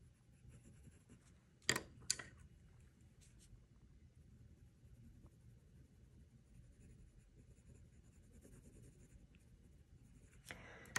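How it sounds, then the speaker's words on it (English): A white colored pencil burnishes over paper, giving a soft, continuous scratchy rubbing close up, with a few sharper taps and scrapes at the start and end. "So I'm going to start burnishing a little bit with my white colored pencil."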